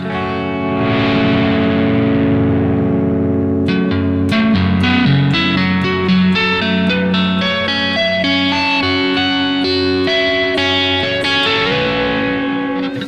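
Distorted electric guitar playing fast tapped note runs outlining the pentatonic scale, with heavy effects and reverb, steady and loud throughout, no voices.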